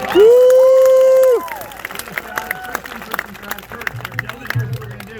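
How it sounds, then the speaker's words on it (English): A crowd at a variety show cheers and applauds a volunteer: a loud sustained whoop opens, then scattered clapping and cheering with crowd murmur follows. "If I give Kurt a round of applause, guys"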